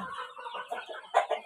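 Native Indonesian village chickens cluck softly and continuously close by, with a few sharper calls near the end.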